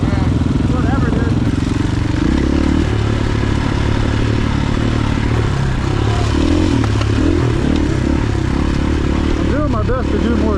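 A dirt motorcycle engine runs steadily and loudly at close range while riding the trails at Dove Springs, with shifting revs, clattering and scraping throughout, and a rider's voice talking over it.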